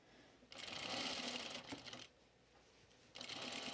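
A sewing machine stitches through elastic edges of a garment being refashioned from a dress, in two close bursts with a quieter stretch between, no talking.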